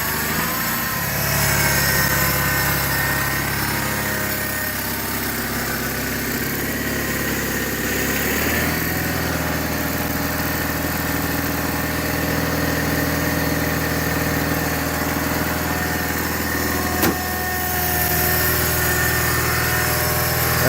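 A 1985 John Deere 318 garden tractor engine idles steadily and loud throughout, a constant close-up drone with a smooth rhythm and a brief click near the end.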